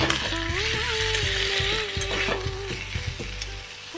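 A potato and egg curry spice mixture, sweetened with sugar, sizzles steadily in a pan while being stirred, with close, repeated scraping strokes over the continuous frying hiss.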